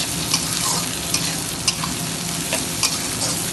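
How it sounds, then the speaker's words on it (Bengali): Vegetables stir-fried in a hot pan for chicken bhuna khichuri, a dense continuous sizzle broken by sharp scrapes and clacks of a spatula, close and fairly loud, with no voices. "তারপরে এটা ভালোভাবে নাড়াচাড়া করে ভেজে নিতে হবে"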